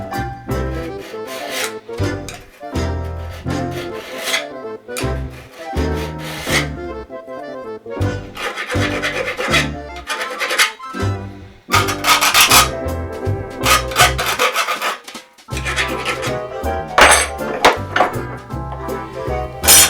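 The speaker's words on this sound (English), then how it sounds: "You can accomplish this with a file and some hand-eye coordination" Steel card scraper edge being filed square by hand, a rasping file scraping in repeated strokes with short pauses between passes, close and fairly loud with no talking.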